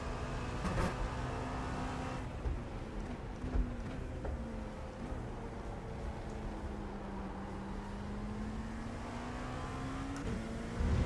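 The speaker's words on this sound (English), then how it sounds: "Look at that girl just spin the tyres." An LMP2 prototype race car in the iRacing sim, engine droning steadily with pitch sweeping down and back up as the tyres spin under throttle, a continuous close-up in-car sound without speech.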